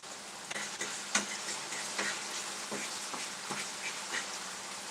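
Seasoning sizzles and cooks down in a frying pan, a steady close crackling hiss with scattered sharp pops and ticks throughout.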